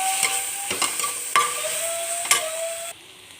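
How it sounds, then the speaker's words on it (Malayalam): Tomato being stirred into sizzling masala for a prawn fry, a spoon scraping the pan in four or five distinct strokes over steady frying, close up, before the sizzle suddenly drops away. "നമുക്കിനി ഇതിലേക്ക് ഒരു തക്കാളി ചേർത്ത് കൊടുക്കാം നന്നായി മിക്സ് ചെയ്യാം"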